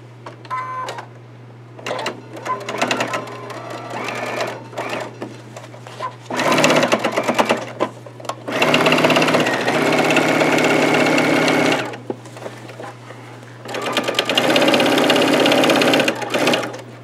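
Sewing machine stitching a seam on a T-shirt quilt, running in several loud continuous bursts with short pauses between them and a steady low mechanical hum underneath throughout.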